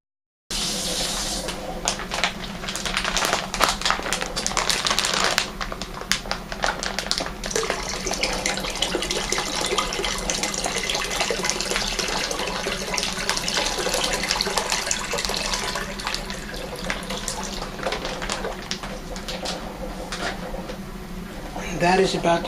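Water running steadily from a tap into a container, filling it toward the 5-gallon mark while a merlot wine kit is prepared for primary fermentation; a continuous, fairly loud rush lasting throughout.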